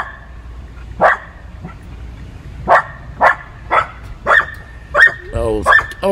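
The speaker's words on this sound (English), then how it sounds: "She's barking at herself in the window." A dog barks at its own reflection in a window, with about nine sharp, loud barks at irregular intervals and some whimpering yips near the end, set against a quiet indoor background.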